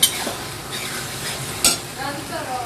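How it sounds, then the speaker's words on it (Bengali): A fish head fries in cooked-down spice masala, a steady close sizzle with a scrape of stirring at the start and a sharp clink midway. "এই যে মাথাটা এখন দিয়ে দিব মশলার মধ্যে।"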